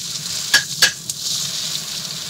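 Something sautéing in a pan on the hob for a steak and lamb chop meal, with a constant moderate sizzle and two or three sharp metallic utensil clinks early on, no talking.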